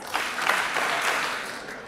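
An audience claps together in response to a call, producing a brief burst of applause lasting under two seconds, close and fairly loud with no talking.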